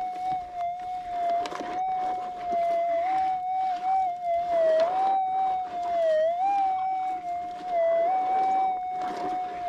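A Minelab GPZ 7000 metal detector gives a steady, sustained tone that wavers and dips in pitch as it sweeps over a gold target, with faint outdoor noise behind it.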